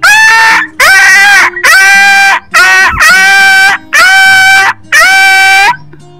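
A man imitates a puppy's whimper in seven loud, high, wavering whines, each about half a second to a second long, separated by short gaps, with no other voices.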